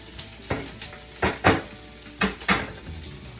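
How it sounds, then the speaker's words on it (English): Ingredients and herbs are stirred in a pot with a utensil, several short scraping and clinking strokes in uneven rhythm over a faint background, close by and alone. "We're gonna go ahead and give it all a stir."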